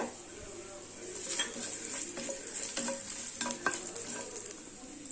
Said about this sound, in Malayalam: ഇതൊന്ന് വഴറ്റി കൊടുക്കുക